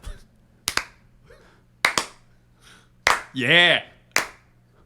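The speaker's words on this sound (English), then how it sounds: "Can I get a little hand clap?" A few loose hand claps spaced irregularly through a short stretch of talk, with a sung note breaking in near the end; the claps are sharp and close but sparse rather than steady.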